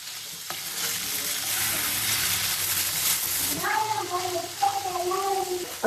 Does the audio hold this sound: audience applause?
no